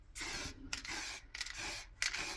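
Aerosol spray can coating a resin-inlaid wooden wall plaque in several hissing bursts of about half a second each, close and steady with short gaps between them.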